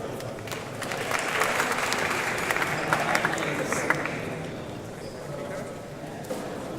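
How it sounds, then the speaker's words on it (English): An audience applauds a speaker at the DAHO.AM 2018 conference in Munich, dense clapping that gradually thins and fades, with voices murmuring underneath. "So please a big applause also to Patrick Dai."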